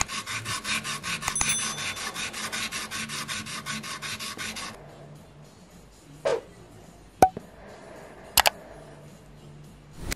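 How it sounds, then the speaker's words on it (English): Metal blade cut from an old saw being hand filed, a fast rhythmic rasping of steady strokes for about five seconds, followed by quiet handling and a few sharp clicks. "And then I worked on the blades with file and wet sandpaper."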